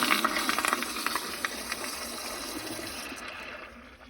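A 2004 American Standard Cadet pressure-assist toilet with a Flushmate unit flushes a dish towel, giving a loud, forceful rush of water and hiss that tails off over a few seconds.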